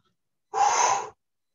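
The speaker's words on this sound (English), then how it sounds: "So listen to my breathing." A single sharp, forceful breath lasting about half a second, taken during a rugby fitness exercise, close and isolated against silence.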